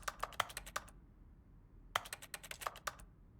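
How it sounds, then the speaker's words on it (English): Keyboard typing in The Stanley Parable: Ultra Deluxe, two quick bursts of crisp clacking keystrokes separated by a second of quiet, close and fairly faint, with no voice over them. "I love making typing noises."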